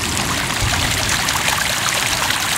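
Floodwater from the Texas floods streams steadily across a residential driveway, a loud continuous rushing and trickling wash close by with no voices over it.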